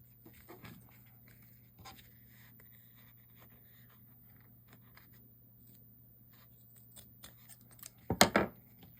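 Scissors snip through needlepoint canvas in a few faint, scattered cuts, ending with a louder close burst of snipping near the end in a quiet room.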